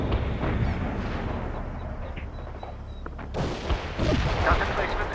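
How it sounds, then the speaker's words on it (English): Medium artillery barrage in the World in Conflict Soviet Assault campaign: a continuous rumbling wash of distant blasts and gunfire, swelling into heavier impacts toward the end, with no talk over it. "Medium artillery launching a barrage"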